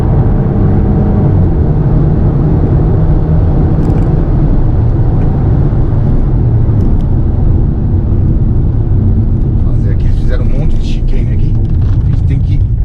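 A Fiat Pulse Abarth compact SUV roars loudly as it is driven fast on a track, the engine and road noise dense and constant from inside the cabin while someone talks over it.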